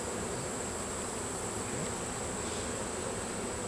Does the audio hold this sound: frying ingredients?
no